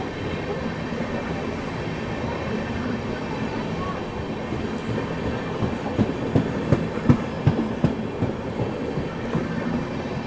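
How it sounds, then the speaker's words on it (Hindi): The Netaji Express runs on a parallel track past a moving train near Sahibabad, heard as a continuous low rumble with scattered wheel clacks and thumps growing slightly sharper midway. "यहाँ पर दोस्तों पैरेलल में नेताजी एक्सप्रेस आगे जा रही है।"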